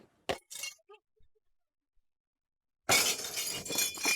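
Breakable crockery shattering in a sudden loud, dense crash after a few faint clinks and a stretch of near silence, the debris rattling on for over a second.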